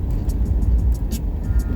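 A truck rolling along, with a steady, loud low road and engine rumble filling the cab and no talking.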